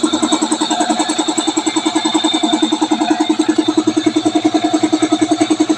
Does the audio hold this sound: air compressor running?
yes